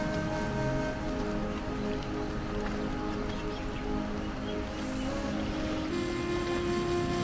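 A river flows beside a riverside homestay in Doban Valley as a constant broadband rush of water with a faint, steady low hum underneath and no voices.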